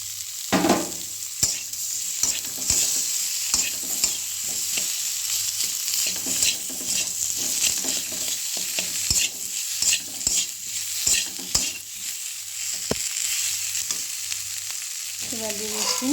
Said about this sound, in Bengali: একটু মশলাটি কষিয়ে নেব।